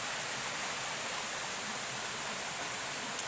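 A small forest stream in southern Laos flows with steady, dense rushing water, close and constant, with no other sounds standing out.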